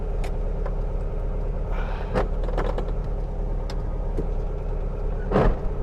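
A 1967 VW Karmann Ghia, a rusty car newly restored, rolling along in first gear, a steady low engine rumble with scattered clicks and rattles and a louder thump near the end.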